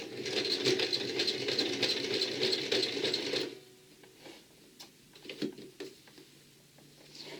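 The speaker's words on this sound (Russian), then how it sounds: "Шью, как обычно, на ширину лапки." A domestic sewing machine stitches a straight seam at presser-foot width on fabric facing with tape, running steadily and loudly for about three and a half seconds before stopping, followed by quieter handling clicks and rustles.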